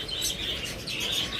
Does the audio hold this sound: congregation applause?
no